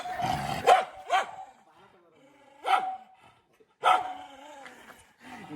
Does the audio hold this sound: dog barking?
yes